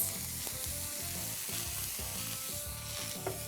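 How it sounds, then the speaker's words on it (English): Cucumber, green onions and bean sprouts tossed in a hot wok with the flame off, giving a steady, close sizzle with soft rhythmic scraping and stirring that runs the whole time, with no voices. "Just toss them up in a hot wok."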